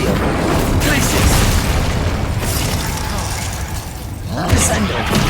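Incendio and Glacius spells cast in the video game Hogwarts Legacy: loud, continuous booming spell effects with bursts and a crackling rush, then a fresh blast near the end.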